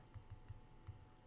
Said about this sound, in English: You can't see it right now, but I'm typing it in.